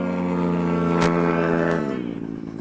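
Small 70cc racing scooters with two-stroke engines scream around a race track, a loud, sustained high-pitched engine whine that shifts pitch downward as the machines pass by close.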